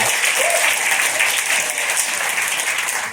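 Audience at a stand-up comedy show during an immigration lawyer conference in New York City breaks into a round of applause, dense continuous clapping from a crowd that stays full and even, easing slightly toward the end.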